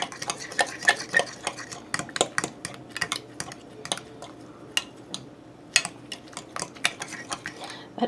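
A utensil stirs sugar into cornstarch in a bowl, quick rhythmic scraping clicks and taps against the bowl, close and crisp, continuing with brief pauses and no speech.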